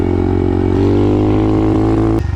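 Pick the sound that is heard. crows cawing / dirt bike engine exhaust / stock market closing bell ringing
dirt bike engine exhaust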